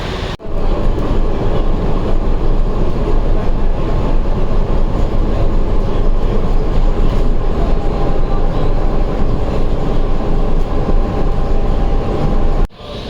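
A metro train at KL station in Malaysia gives a loud, continuous, close rumble that holds steady for nearly the whole stretch, with brief drops at the very start and near the end.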